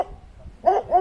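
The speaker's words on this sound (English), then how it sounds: "that was the dog barking." Two quick, sharp barks from a dog nearby, loud and close, coming after a moment of quiet.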